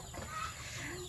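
A native chicken clucks briefly and softly, close by, over a faint background hum.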